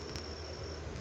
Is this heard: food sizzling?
no